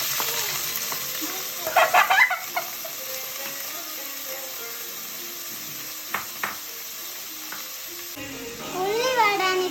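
Sliced onion, curry leaves and green chillies drop into hot oil and sizzle steadily, with louder crackling bursts early on and again near the end, amid light stirring clatter.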